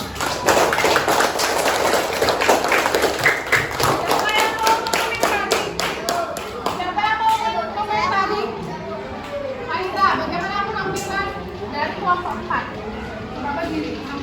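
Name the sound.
applause for a group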